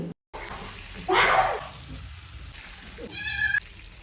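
Prawns frying in oil in a pan for a Kerala-style chemmeen dish give a steady close hiss with a louder sizzling surge partway through, and a short high squeal near the end.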